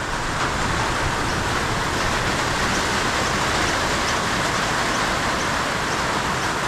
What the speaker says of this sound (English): The sun is shining and it is raining.